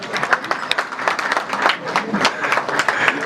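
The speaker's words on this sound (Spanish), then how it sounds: "También un aplauso para Víctor." An audience applauds for Víctor at an event about democratic and scientific education, with dense, steady clapping throughout and some voices mixed in.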